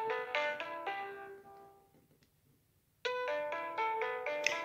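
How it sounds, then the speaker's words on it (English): A Pinephone rings with an incoming call, playing a bright melodic ringtone of repeated tonal notes that fades out, goes silent for about a second, then starts again loudly. "Now, the phone rings, but you have to hit the side button to pick up the call."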